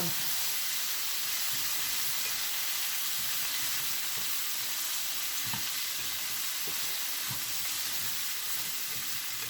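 Chicken and onion frying in butter in a pan, a steady bright sizzle and hiss with occasional soft stirring scrapes, close and continuous.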